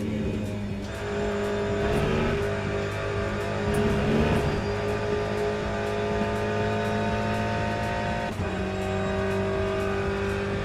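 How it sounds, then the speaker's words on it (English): A V8 race car engine from the racing game Le Mans Ultimate growls and revs continuously, with the pitch shifting through gear changes and a brief dip and recovery near the end. "Sound like a growly V8 in this, doesn't it?"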